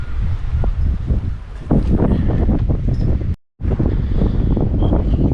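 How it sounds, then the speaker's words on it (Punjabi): Strong wind buffets the microphone in loud, rumbling gusts on a hilltop above the beach at Étretat, France, cutting out briefly to silence before roaring back; no voices. "ਨਾਲ ਹਵਾ ਚੱਲਦੀ ਵੀ ਹੈ"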